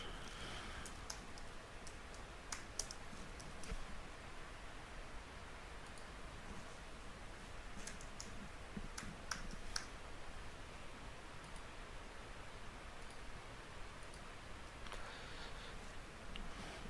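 Keys clack on a computer keyboard as someone types out a mailing address while filling in an online LLC formation form, faint scattered clicks in short bursts over a low background hiss, with no talk.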